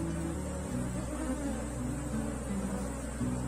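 Honeybees buzz steadily at an open hive during a swarm split, a dense, continuous close-range drone with shifting pitch and no talk over it.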